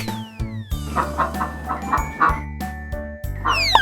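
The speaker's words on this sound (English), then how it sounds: "Duck." A series of quick duck quacks, five or six in a row, sounds over light cartoon music with a few sliding effects.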